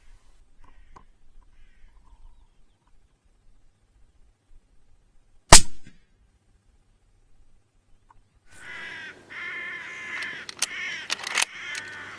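Hooded crows caw in a rough burst of repeated calls near the end, after a long near-silent stretch broken by a single sharp crack from an air rifle.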